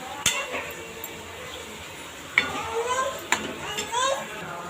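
A spoon stirs and mixes a home-cooked dish with green beans in a metal pot, giving a few sharp scraping clinks and soft scrapes, with a voice and household chatter faintly behind.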